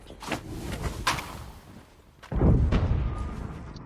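Grenade-style explosion in Call of Duty Mobile battle royale: scattered sharp game hits, a brief lull, then a sudden loud, close blast with a rumbling tail.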